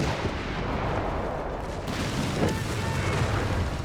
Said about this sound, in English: Artillery fire here